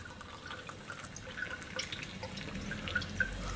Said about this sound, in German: Und das kippe ich jetzt mal hier in die Tasse und dann gucken wir mal,